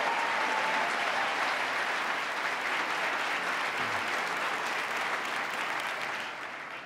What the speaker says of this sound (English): give him a round of applause for his good work